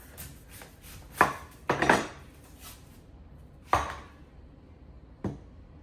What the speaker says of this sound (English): Now I'm going to take 1 red onion and I'm going to cut it in half.